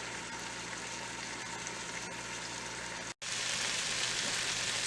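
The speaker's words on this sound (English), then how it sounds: "I'm going to saute those until they get nice and tender" Vegetables sautéing in a pot for ham and sweet potato soup give a steady, faint hissing sizzle that runs evenly, broken by one brief silent cut before resuming slightly brighter.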